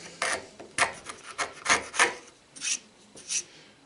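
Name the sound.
sharp chisel working on a Titebond III glued wood joint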